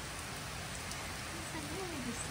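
Heavy rain pours down in a dense, steady hiss that fills the whole stretch, with a faint voice murmuring low beneath the downpour.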